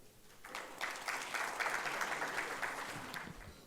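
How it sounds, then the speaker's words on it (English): Audience applause welcoming a speaker at a capacity-building workshop at IIIT-B; a soft scatter of clapping that swells into a steady, moderately quiet wash from a gathered crowd, heard from a distance in the hall. "Please welcome him with a round of applause."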